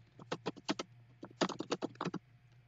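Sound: typing on a keyboard

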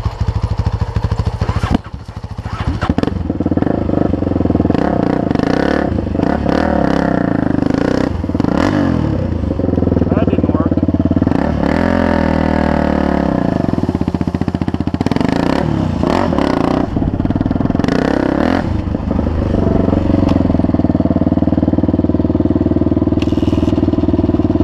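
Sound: dirt bike engines running and revving

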